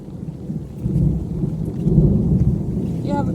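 Heavy rain pours outdoors in a dense, continuous wash while low thunder rumbles and swells beneath it, loud and close throughout.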